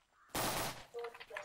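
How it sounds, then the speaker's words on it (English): Guns fire in the Island Royale video game: one short, dense burst of rapid shots, fairly faint, followed by scattered quieter sounds. "I hear gunshots. I hear guns firing."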